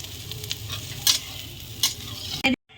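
Hilsa fish with elephant foot yam frying in a pan in a rural home kitchen, a steady close sizzle with scraping stir strokes and a few sharp clatters, ending abruptly.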